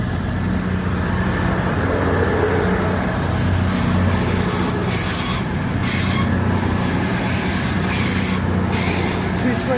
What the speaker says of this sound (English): Cross-country service from Bournemouth to Manchester Piccadilly.